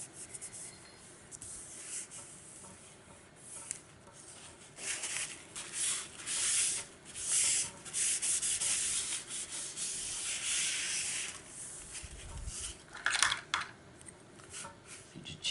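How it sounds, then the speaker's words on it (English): A blade trims the edge of a clock-making workpiece with close, soft rasping strokes that swell and fade in uneven bursts. "I've got some trimming to do right there on the edge."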